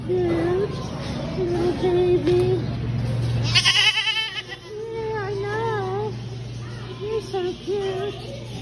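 Goats on a farm in Ohio bleat repeatedly in wavering, crying calls, several animals close by, with a person talking among them and a brief rustling burst midway.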